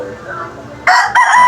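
Nearby, a gray bull stag rooster lets out two loud crowing bursts after a quieter stretch of low background noise.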